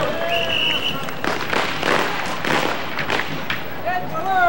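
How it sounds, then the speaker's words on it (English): Firecrackers pop at a Chinese New Year parade in San Francisco, sharp irregular bursts crackling amid crowd noise and whistles, fairly near and loud. "And you can hear in the background the sound of firecrackers."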